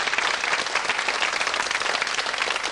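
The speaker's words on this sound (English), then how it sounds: "Give them an encouraging cheer," Studio audience at the Going for Gold quiz show cheering and applauding, a continuous dense wash of clapping throughout, loud and close with no talk.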